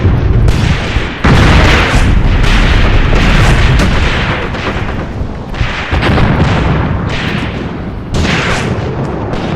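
Tank and artillery gunfire in a WW2 battle video game set in Tunisia in 1943, heavy booming shots one after another with brief gaps between them, loud and sustained, and no voices.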